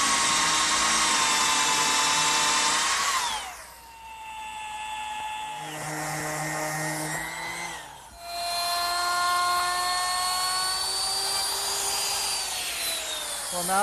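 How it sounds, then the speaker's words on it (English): A power drill bores a blind screw pocket at a 15-degree angle through a pocket-hole jig into a hutch door part, whining loud and steady, then slowing and dropping in pitch as it bites, a short pause, and spinning up again. "the blind screw pocket is made with this little jig that I bought at the store, and what it does is it directs the drill at a 15-degree angle"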